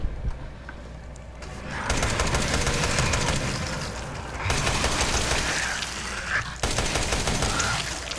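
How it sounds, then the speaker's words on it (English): Sustained automatic gunfire from a machine gun in the horror game Resident Evil 7, loud bursts roughly continuous across the clip with brief breaks, over game ambience and no talking. "Get the machine gun."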